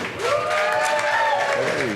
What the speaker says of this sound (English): Let's start with a big round of applause from Columbia, Missouri, Jalen, Logan